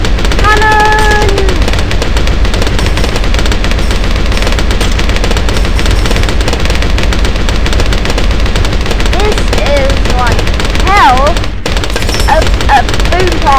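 Cannon towers fire in Bloons TD Battles: a dense, loud stream of rapid gunfire-like pops and booms that carries on steadily, with game chimes and a voice talking over it.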